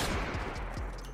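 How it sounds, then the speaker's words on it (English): A sniper rifle shot fired in GTA 5, a loud close boom with a long low rumbling tail and faint repeated thuds through the rest of the moment. "Let's try the normal sniper rifle first."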